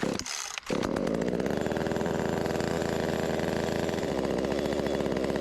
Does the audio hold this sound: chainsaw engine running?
yes